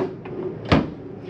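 A door on a 2022 Crossroads Redwood 4150RD travel trailer snaps open with one sharp, close click, set against a quiet interior.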